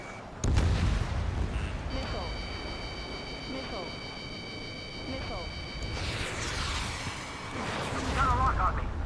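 A missile launch in the jet combat game Ace Combat 7: a sharp opening whoosh and rumble, then steady engine roar with sustained warning tones and radio voices talking over the cockpit noise.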